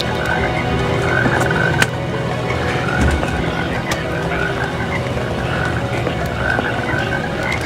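Toads croak in a dense, continuous chorus that stays steady and fairly loud, with a brief knock partway through.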